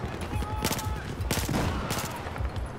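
Rapid gunfire rattles through a Battlefield 4 campaign battle in overlapping bursts of shots and explosions, a dense, chaotic fusillade lasting the full few seconds.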